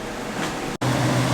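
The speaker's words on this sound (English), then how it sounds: "You'll have to excuse the noise of the fan." A kitchen fan hums steadily near a stove where a pot has been boiling hard, a constant low drone that briefly cuts out and then returns with a stronger low tone.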